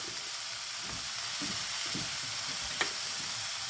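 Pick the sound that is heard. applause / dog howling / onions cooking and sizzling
onions cooking and sizzling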